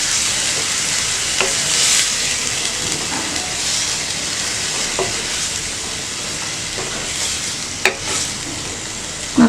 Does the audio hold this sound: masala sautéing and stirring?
yes